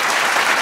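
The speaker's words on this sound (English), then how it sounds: "let's give another round of applause for our amazing introist" Studio audience applause at a live comedy newscast show, a dense, steady roar of clapping hands filling the whole short moment without any talking.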